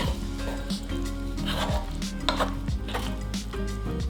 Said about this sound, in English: then add in the cornstarch mixture. Stir immediately.